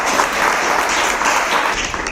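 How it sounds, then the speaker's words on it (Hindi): Loud, steady applause from a quiz competition audience cheering an expert at a school quiz class, dense clapping sustained throughout with no talking. "एक बार हमारे एक्सपर्ट के लिए जोरदार तालियां हो जाए।"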